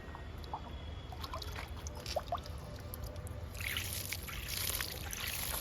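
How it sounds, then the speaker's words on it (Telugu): Water poured onto a jasmine plant, given just after fertilizer, with soft trickling and splashing that grows louder and fuller in the last seconds over steady low outdoor background noise. "విరజాజు మొక్కకి వాటర్ ఇస్తున్నాను"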